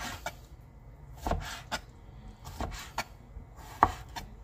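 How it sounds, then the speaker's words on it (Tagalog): A knife chops a tilapia fillet into small pieces on a cutting board, giving a string of close, uneven thuds and knocks with short gaps between them and no talk. "So, hiwain lang natin siya ng maliliit."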